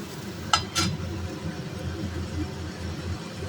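A spice paste of cumin, coriander, chili and turmeric mixed with a little water fries in a pan with a steady soft sizzle. Two quick metallic clinks of a stirring utensil sound near the start.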